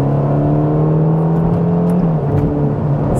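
Ferrari Roma Spider twin-turbo engine with dual-clutch transmission revving after a downshift, a loud steady close drone that dips slightly near the end.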